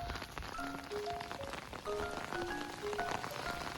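Heavy rain falls on a wet day out in Suncheon, South Korea, making a constant, even hiss of drops on surfaces, with faint scattered high tones drifting over it.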